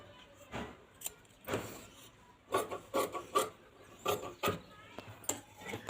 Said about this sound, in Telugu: స్లీవ్స్ మార్కింగ్ అయిపోయింది. కటింగ్ చేసేస్తున్నాను.